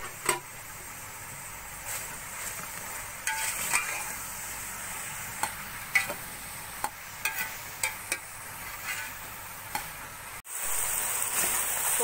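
Ridge gourd (tori) pieces frying in hot cooking oil, a steady soft sizzle running throughout, broken by light clicks and scrapes of stirring against the pan.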